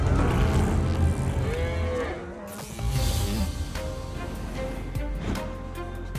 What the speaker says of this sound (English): Cow herds.